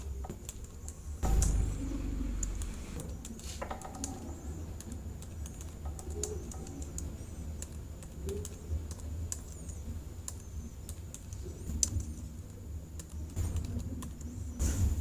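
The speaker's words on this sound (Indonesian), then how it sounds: "kita ketik kode barangnya." Clicking keystrokes tap on a computer keyboard while an item code is entered in an Excel spreadsheet, a run of irregular close taps with a few louder key presses over a quiet room hum.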